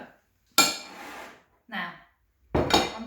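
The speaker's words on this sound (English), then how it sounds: "I'm just going to spoon some raspberry coulis just because it's nice and sharp" A spoon clinks and scrapes against a dish in three separate bursts while raspberry coulis is spooned onto an Eton mess Easter egg dessert, with a voice faintly present.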